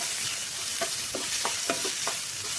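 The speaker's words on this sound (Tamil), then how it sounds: "வெங்காயம் வந்து நல்லா கொஞ்சம் கலர் மாறுற அளவுக்கு வணக்கிக்கோங்க" Onions sautéing in a pan for lady's finger poriyal make a steady close sizzle, with several soft scraping stirs of a spoon against the pan.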